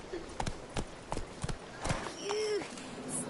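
Roach the horse gallops in The Witcher 3, a quick run of hoof clip-clops at moderate distance over a soft game backdrop, with a short tonal sound midway and faint voices in the background.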